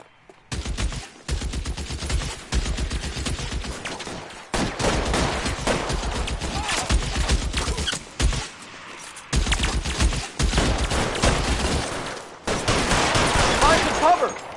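Heavy bursts of gunfire in a shootout in L.A. Noire, long rattling volleys broken by short pauses, loud and close, with shouted voices mixed into the firing.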